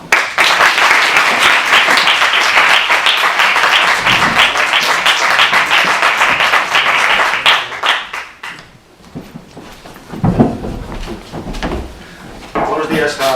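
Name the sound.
audience applause at a conference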